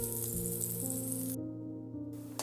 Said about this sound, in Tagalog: Igisa po natin itong sibuyas.